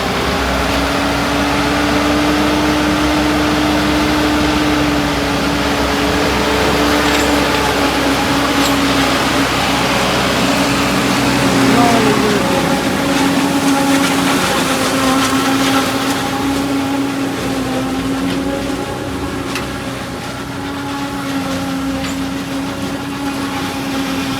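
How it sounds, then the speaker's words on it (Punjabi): An Arjun tractor engine drones steadily and loudly throughout a performance check, a continuous mechanical hum with a slight shift in pitch midway. "ਦੇਖੋ ਇਹ ਟਰੈਕਟਰ ਬਿਲਕੁਲ ਵੀ ਲੋਡ ਨਹੀਂ ਲੈਂਦਾ"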